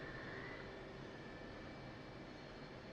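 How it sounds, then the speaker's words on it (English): An F/A-18C jet engine spools up during start-up in a flight simulator game, giving a steady, continuous roar with a faint high whine. There is no talking. "Crank the engine down."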